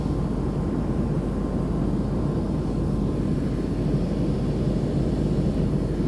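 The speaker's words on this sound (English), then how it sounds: "So the plane just turned around so it could get ready to land." Airplane cabin noise as the plane turns to line up for landing: a constant, loud, broadband engine and air roar with no breaks, and no voices.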